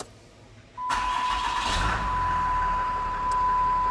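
An on-highway vehicle engine cranks and catches abruptly, then settles into a steady, close idle, with a faint tonal beep running alongside.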